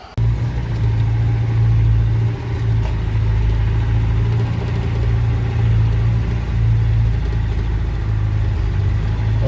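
A car engine drones steadily while driving along a dirt track on a gold-prospecting trip, a constant low rumble with a slight steady hum, loud and close throughout with no talking.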